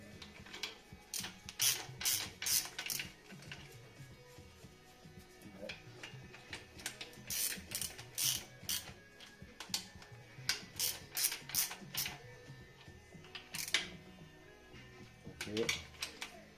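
Ratchet wrench hand-tightening the main bearing cap bolts on a Peugeot 309 GTI / 205 GTI crankshaft during an engine rebuild, giving repeated bursts of close, crisp clicking with someone talking in between.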